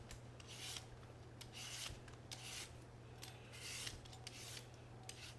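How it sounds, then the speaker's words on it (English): Three sweet potatoes are peeled all the way down, leaving none of the skin on: repeated short scraping, rasping strokes in steady rhythm, close and fairly quiet over a constant low hum, with no talking. "We're gonna peel all 3."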